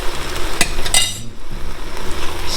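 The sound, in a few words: stirring jambalaya with Creole seasoning in a large pot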